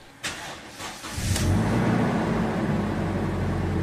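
A Toyota Innova engine cranks briefly and catches, then settles into a loud, steady high idle that drones on without letup.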